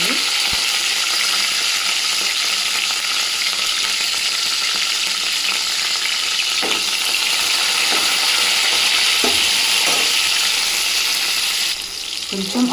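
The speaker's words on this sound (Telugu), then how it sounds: "కొంచెం ఇవి వేడైన తర్వాత ఎండుమిర్చి అలాగే కరివేపాకు కూడా వేసుకోండి." Lentils, dried red chillies and curry leaves fry in hot oil with a steady, loud sizzle throughout, broken by a few soft stirring clicks and a brief clatter near the end; no one speaks.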